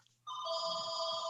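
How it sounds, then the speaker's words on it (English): A telephone rings during a property-tax equalization appeal hearing, a steady electronic ring that starts after a short quiet moment and continues unbroken, fairly clear and close. "I'll come back to you when my phone's not ringing."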